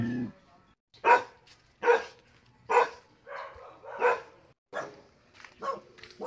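A dog barks about seven times in a steady, evenly spaced series, moderately close and clear, with no talking over it.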